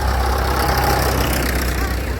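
A tractor engine runs steadily at a steam fair, loud and close, with a continuous low rumble and knocking throb throughout and no speech.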